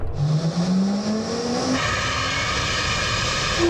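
A 1,000-horsepower hypercar at full throttle on a quarter-mile run, its engine note climbing in one loud continuous pull, with a gear change partway through and the roar carrying on strong to the end.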